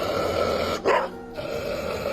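A dog reacts when shown a cross. One short, sharp bark or yelp stands out loudly against a quiet, steady background.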